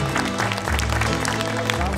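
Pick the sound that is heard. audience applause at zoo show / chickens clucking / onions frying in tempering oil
audience applause at zoo show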